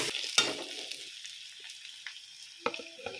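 Onions frying in a pan for a prawn gravy, a soft sizzle with a sharp stirring clatter near the start and a few more scrapes and taps toward the end.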